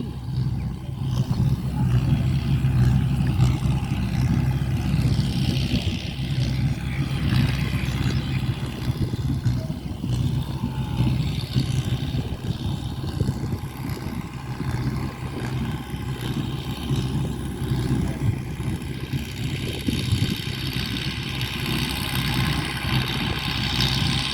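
A farm tractor engine rumbles and idles steadily while baling straw in rural Thailand, low and continuous, with slight changes in intensity and no voices throughout.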